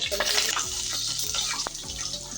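Whole spices, bay leaf, cinnamon, cardamom and cloves, sizzle in hot ghee and oil for pulao, a dense close crackling hiss with brief stirring scrapes throughout.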